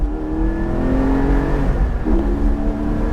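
A Porsche 718 Spyder engine revs hard and holds a steady, loud roar, with the pitch rising and dipping slightly as the throttle is worked.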